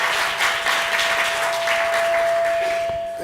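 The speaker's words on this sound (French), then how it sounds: "Ça mérite quand même un applaudissement dans cette salle." Audience in a conference room at a breakfast event on climate change and food applauding steadily for a few seconds, a dense even patter with no talk and a thin steady tone running through it.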